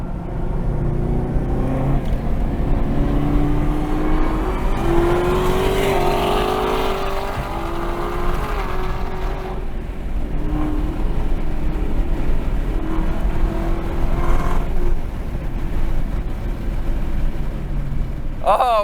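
Chevrolet Camaro ZL1 1LE with a ten-speed transmission running on a race track, a steady engine drone from inside the car throughout, with people talking over it.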